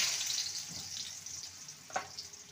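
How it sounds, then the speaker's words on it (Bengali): Potatoes frying in hot oil for a jackfruit and egg dish give a soft, steady sizzle, with a couple of brief stirring scrapes partway through. "এবার আলুগুলো ভেজে নেব।"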